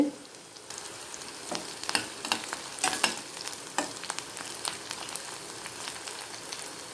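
Onions and green beans sautéing in a pan for a hotel-style beans poriyal, a steady soft sizzle with scattered crackles and scraping stir clicks throughout, fairly quiet and with no talking.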